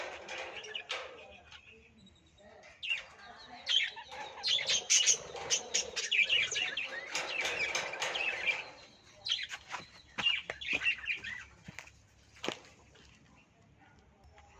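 Sparrows chirp busily near a bird feeding spot, a dense flurry of overlapping tweets in bursts with brief lulls, a few wing flaps, and a person speaking softly in the background.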